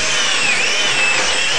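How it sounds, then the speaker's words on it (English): A power drill boring a hole through wood for a jigsaw blade, a steady loud whine held without pause close by, with no voices. "we're going to drill a hole here"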